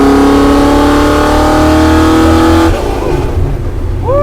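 The race engine of a homebuilt LS-swapped rat truck revs loud and close, holding a high, rising roar, then dropping to a rough, lumpy idle.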